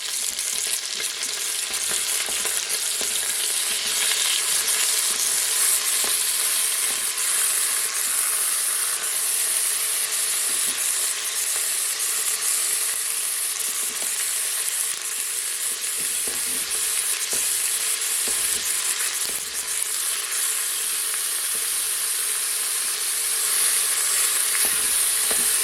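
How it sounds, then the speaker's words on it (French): Pork browning in a pan gives a loud, steady, bright sizzle close up, with occasional faint clicks of stirring throughout and no talk. "il faut faire dorer un petit peu la viande"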